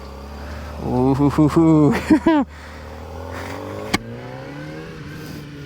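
A 2023 Kawasaki ZX-4RR motorcycle engine revs hard, its pitch climbing in several quick surges, then drops into a steady, lower drone as the bike pulls away; a rider gives a short exclamation.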